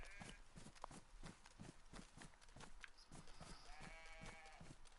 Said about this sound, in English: Oh, no, that's some sheep.